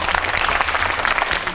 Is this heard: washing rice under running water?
no